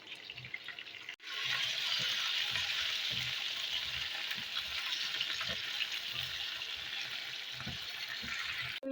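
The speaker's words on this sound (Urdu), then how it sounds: "تو پیاز فرائی کر رہے ہیں ہم لوگ" Onions fry in hot oil with a steady, dense hiss and crackle that kicks in abruptly after a short pause, with occasional soft stirring knocks, close and continuous.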